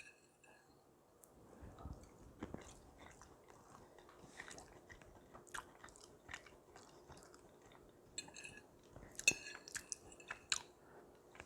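Close, quiet biting and chewing of a keto bacon cheeseburger casserole with cheese and salsa, soft wet mastication with a few crunchy bites scattered through, no talking.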